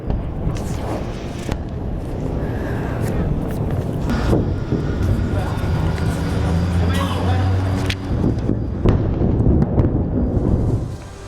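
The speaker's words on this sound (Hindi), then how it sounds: "एक बार सुनिए कैसे धमाके से गूंज रहा है बेरूत।" Explosions from an attack on Beirut boom and rumble through a dense, continuous roar, with sharp blasts standing out at a few points and a low rolling echo between them.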